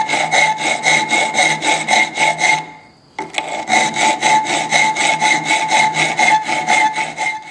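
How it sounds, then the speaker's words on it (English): A hand file rasps across the steel stick tang of a puukko knife clamped upright, with steady rhythmic back-and-forth strokes, loud and close, pausing briefly midway before resuming. "I'm going to clamp this upright and do the final refinement using a hand file."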